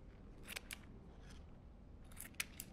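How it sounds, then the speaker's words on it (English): A few quick, crisp scissor snips cutting a paper circle sound close by in an otherwise quiet room, spaced irregularly, with two bursts close together near the end. "now I use my scissors to cut the circle out"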